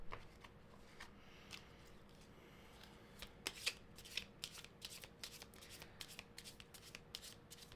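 Tarot cards being shuffled for a reading: a quiet, steady riffle of soft card flicks, with a run of sharper, brisker snaps in the second half.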